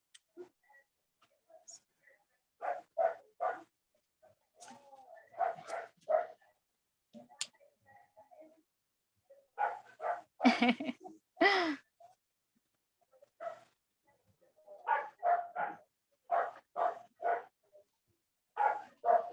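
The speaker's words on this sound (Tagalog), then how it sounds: "Sumasagot din yung aso." A dog barks in repeated clusters of two or three quick yaps, moderately close but not loud, across the whole stretch. Brief breathy vocal sounds mix in around the middle.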